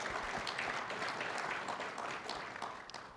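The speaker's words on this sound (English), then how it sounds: "round of applause" An audience at an annual general meeting panel gives a round of applause, soft, dense clapping that fades slightly toward the end.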